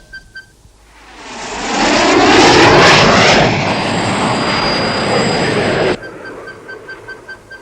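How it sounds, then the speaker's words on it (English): Mountain rescue unit aircraft flying overhead, a loud engine roar swelling in over a couple of seconds, holding strong, then cutting off abruptly, with no talking. "A plane of some kind."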